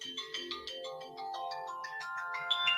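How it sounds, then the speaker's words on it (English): A mobile phone ringtone plays on its own, a bright melodic electronic tune of rising note runs, steady and fairly loud with no talking over it. "oh, why is my phone ringing?"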